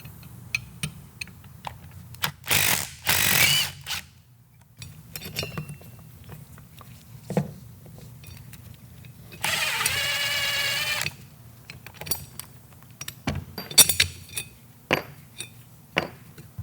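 Metal parts clink and clatter as external bolts and springs are removed from a tractor implement slip clutch, with scattered clicks, a few louder ratchety bursts and short rattling spells, close by in a quiet workshop.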